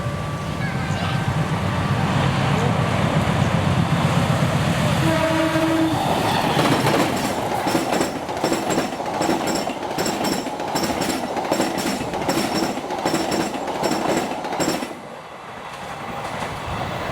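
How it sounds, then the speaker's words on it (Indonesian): The Manahan 79F passenger train from Solo Balapan to Gambir rolls past on the railway, loud and close, with rhythmic clickety-clack of wheels over rail joints and a short horn blast early on. "yang akan lewat adalah kereta api Manahan 79F dari stasiun Solo Balapan tujuan stasiun Gambir"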